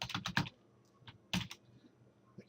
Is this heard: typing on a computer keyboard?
yes